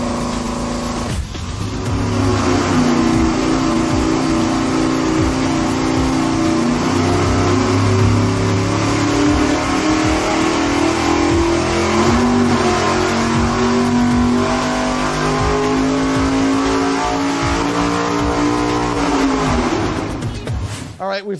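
A nitrous-fed V8 roars on a dyno in a long, loud, sustained pull, its pitch climbing steadily for about twenty seconds before the engine abruptly cuts off.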